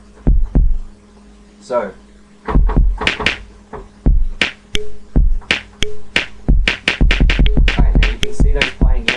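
Akai XR20 drum machine playing a punchy beat of repeated kick and snare hits with sharp percussive transients, loud and close, with a brief spoken word near the start.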